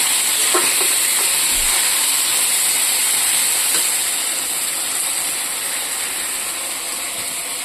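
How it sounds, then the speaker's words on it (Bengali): Onion paste frying in a pan gives a steady, close, loud sizzling hiss that runs unbroken with faint crackles and slowly eases slightly toward the end. No one talks over it. "আর পেঁয়াজ, এটা পেস্ট করেছি, এটা দিয়ে দিচ্ছি এটাতে। এটা দিয়ে কিছুক্ষণ ভাজবো।"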